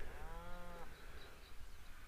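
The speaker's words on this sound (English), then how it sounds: "Lots of cows down there." A single cow moos once in the Murray Valley near Jingellic, Australia, a long tonal low, then fades into faint open-air background noise.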